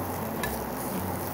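Shrimp pan-fry slowly in a nonstick pan with little or no oil, giving a brief, steady close sizzle without speech.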